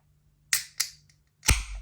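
A can of Anspach & Hobday The IPA beer is opened up close: two sharp metallic clicks from the tab, then a louder crack and a short fizzing hiss as it releases.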